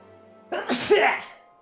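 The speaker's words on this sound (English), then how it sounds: "Never mind, I sneezed anyways." A single sneeze from a character in Final Fantasy X, a short sharp burst with a breathy buildup, heard over a quiet game background.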